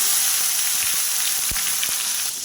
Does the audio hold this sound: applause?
no